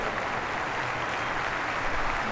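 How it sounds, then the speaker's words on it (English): A stadium crowd at Bramall Lane applauds steadily through a minute's tribute to George Baldock during a charity football match, a dense, even wash of distant clapping with no break. "Gentlemen, please join us in a minute's applause for George Baldock."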